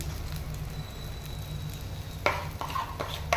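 Small pieces of batter fry in white oil in a wok, giving a continuous close sizzle with a low bubbling bed and a few sharper crackles and spatters near the end.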